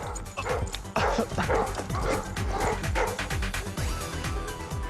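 A dog barks and yips repeatedly in quick bursts, mixing in whimpering whines, close and fairly loud throughout.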